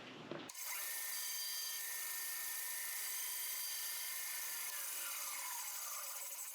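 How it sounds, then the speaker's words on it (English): Bandsaw cutting relief cuts into a piece of wood with the grain, a steady loud whining rasp that starts abruptly and runs continuously. "with the grain we're going to cut on the bandsaw 2 relief cuts so that we can break him evenly"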